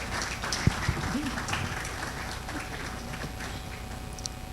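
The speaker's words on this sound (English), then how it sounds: "Keep clapping as he comes." Audience applause at the NMIMR annual research meeting as the chairperson walks up, a faint steady wash of clapping in a large hall with occasional thumps and low voices underneath.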